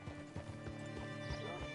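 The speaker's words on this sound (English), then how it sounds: "Hitch your horse up here." Horse hooves clip-clop in a quick, steady rhythm, close and moderately loud, with a brief snort or whinny mixed in, in the video game Red Dead Redemption 2.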